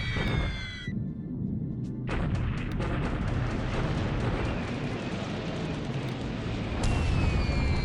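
Bombing in a WWII strategy game over ground near Pegu, Burma, with Blenheim bombers: a sustained, dense roar of rumbling blasts and crackling debris, a sudden hush at one point before the loud barrage resumes and swells near the end.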